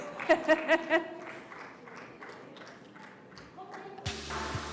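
An audience at a youth summit event claps in a short burst of four or five loud, distinct claps, followed by quieter scattered applause, music and room noise, with a voice talking over it.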